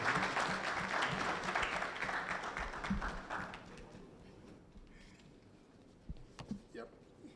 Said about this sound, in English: Shall we welcome him with a big round of applause?